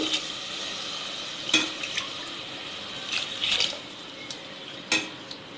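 Water pours steadily into a pot for cooking moong dal rice, with a few sharp clinks of metal cookware scattered through, no voices.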